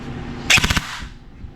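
Full-auto gun mechanism firing, a quick burst of about five sharp cracks lasting under half a second, close and loud, with quiet before and after.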